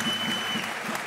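Brief burst of studio audience applause on a Turkish TV talk show, steady clapping at moderate level lasting about a second.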